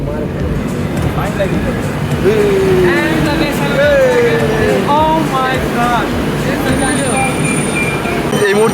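A Kolkata metro train rumbles along on the way to Chandni Chowk, a continuous loud rolling drone with voices carrying over it.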